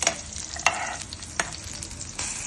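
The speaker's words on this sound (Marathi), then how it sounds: "तर परतून घेऊया आपण छानपैकी." Garlic, green chillies, a piece of ginger and onion frying in a pan, a soft sizzle with a few sharp scraping stirs of a spoon against the pan, fairly quiet and with no voices.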